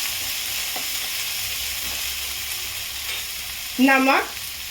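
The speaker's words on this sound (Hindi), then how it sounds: "मैं पेस्ट डाल रही हूँ। इसे चारों तरफ पहले ऐसे मैं मिला लेती हूँ।" Ginger garlic paste stirred into onions frying in a pan for a pea paratha filling, a steady close sizzle throughout with a louder burst of scraping and crackle near the end as the paste is mixed in.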